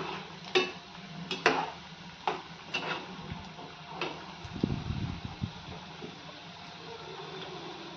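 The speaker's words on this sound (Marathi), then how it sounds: "झाऱ्यानं सतत अशी शंकरपाळी हलवून घ्यायचा म्हणजे त्याला एकसारखा कलर येईल" Slotted spoon stirring shankarpali biscuits frying in hot oil: soft, sparse metallic taps and scrapes against the pan over a low, steady sizzle, close and quiet, with no speech.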